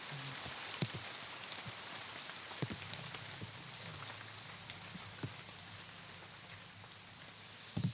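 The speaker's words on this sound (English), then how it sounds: "The rain stopped. It's just water coming off the canopy at this point." After rain, water drips from a forest tree canopy in a steady patter of faint drops, with scattered louder plops landing close by.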